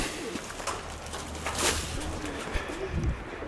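Pigeons in a backyard loft coo in low, rolling calls alongside light rustling and shuffling, fairly close and moderately loud, with no talking.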